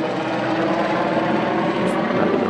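A helicopter passes directly overhead at night, a loud continuous whirring drone with a steady rotor throb that holds evenly throughout, with no voices.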